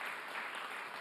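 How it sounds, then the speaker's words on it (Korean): A crowd at a town hall meeting in northern Gyeonggi claps in a brief, dense burst of steady applause, moderately distant and even throughout. "박수 한번 부탁드립니다"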